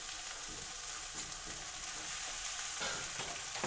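Pumpkin and prawns frying in a pan as water is added, a loud continuous sizzle and hiss with faint stirring scrapes, no talk.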